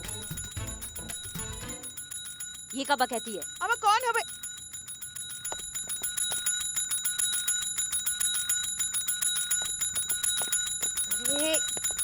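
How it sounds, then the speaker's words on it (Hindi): A police station bell rung repeatedly in an Indian TV comedy scene, bright metallic rings coming in a few quick bursts, with people speaking around and between them. "थाने का घंटी है वो, मंदिर का घंटा नहीं है कि आप बार बार बजाएंगी"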